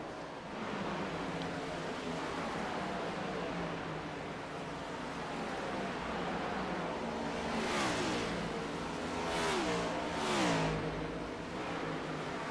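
Stock cars racing at Darlington Raceway, a continuous engine roar with several cars sweeping past in quick succession near the end, loud against a broad wash of track noise.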